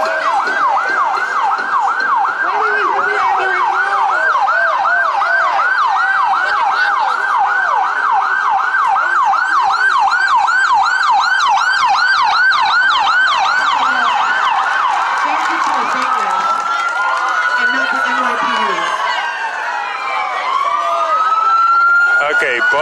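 Loud wailing sirens of two Mount Sinai ambulances in New York City sweeping up and down in a fast repeating cycle, then shifting pitch and tone as they pass, with traffic noise behind.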